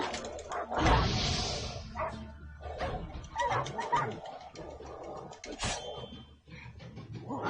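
Dogs bark, yip and whimper in The Witcher 3, a mix of close, loud barks and whining cries that overlap continuously, with a sharp yelp near the end.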